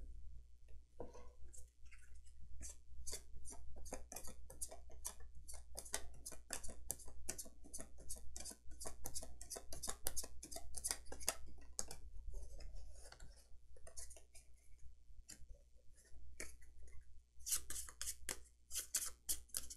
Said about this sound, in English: Okay, so we got to shuffle this in.